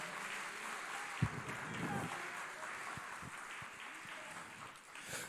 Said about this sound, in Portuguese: aplauda ao nome do Senhor.